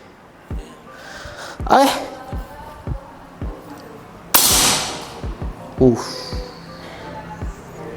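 Sharp gunshots strike a concrete brick, with several short cracking impacts and a few louder, longer bursts spread across the span, and a voice talking between them.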